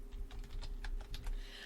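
Rapid typing on a computer keyboard, a steady run of light clicks and taps at close range with no voices.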